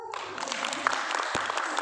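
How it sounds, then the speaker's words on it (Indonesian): An audience at a business talk applauds briefly, a steady wash of clapping at moderate level lasting under two seconds without voices. "Alhamdulillah, tepuk tangan dong."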